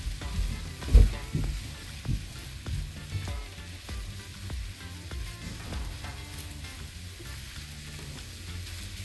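Sauce for shrimp fettuccine Alfredo, seasoned with soy sauce, sizzles in a pan while a utensil stirs it. A louder scrape comes near the start, then the frying crackles on steadily with soft stirring knocks.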